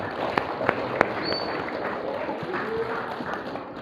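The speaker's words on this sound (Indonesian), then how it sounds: "Tepuk tangan, monggo" Scattered clapping from a mosque gathering audience at a religious study session, steady broadband patter with a few sharper claps, moderately loud, no voices over it.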